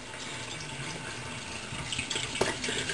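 Tap water runs steadily and close at hand while shampoo is rinsed out of hair, a constant splashing hiss with a few louder spatters toward the end.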